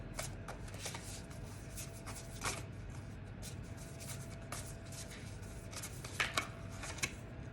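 Tarot cards shuffled by hand in a quiet room, a soft continuous riffling and rustling with a few sharper flicks near the end.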